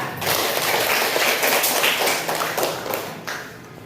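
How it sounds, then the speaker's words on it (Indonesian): A classroom of students claps for a classmate, a dense, close burst of applause that fades away over a few seconds. "tepuk tangan untuk Silva."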